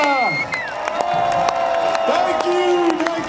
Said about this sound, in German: einen Applaus hier für die Schanze Narre.